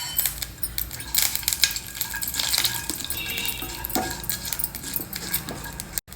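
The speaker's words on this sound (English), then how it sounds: "To this, we will add some mustard seeds and a teaspoon of groundnuts" Mustard seeds and groundnuts land in hot oil in a pan while preparing tiranga poha, giving a busy, continuous crackle and sizzle with sharp clinking pops scattered throughout, fairly close and steady, ending in a brief knock.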